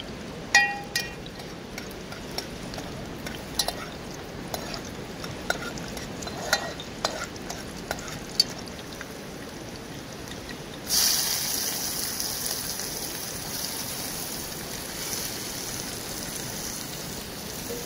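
Garlic fried in a pan over an outdoor camp fire by the sea, with soft stirring clinks and scrapes, then a sudden louder hiss of sizzling as it goes in around the midpoint.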